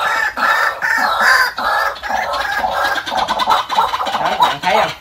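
A caged decoy rooster crows loudly and close by, in repeated bursts with clucking between them, and no one speaks over it.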